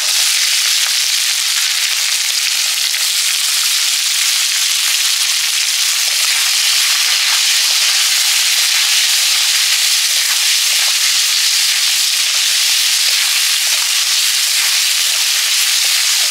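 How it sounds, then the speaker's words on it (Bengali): Dry red chillies and bay leaves fry in hot oil in a wok as a tempering. A loud, even sizzle hisses nearby without pause, flecked with faint crackles, and no voices are heard. "এবার আমি ফোড়নে শুকনো লঙ্কা আর তেজপাতা দিয়ে দিয়েছি।"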